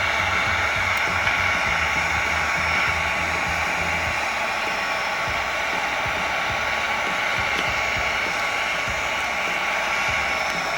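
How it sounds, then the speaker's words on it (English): Heat gun blowing hot air onto a fitting on a Kawasaki STX 160 jet ski, a loud steady broadband hiss that holds unbroken throughout, close to the microphone. "so we are going to use the heat gun."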